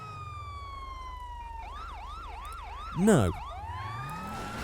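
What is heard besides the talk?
police car siren in a video game, R35 GTR police car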